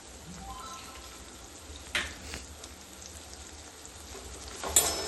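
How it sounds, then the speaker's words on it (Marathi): Green chickpea leaves with chili powder and turmeric sauté in a pan, giving a soft continuous sizzle with a few scraping stir sounds, fairly quiet and without talk. "चांगलं परतून घ्यायचं"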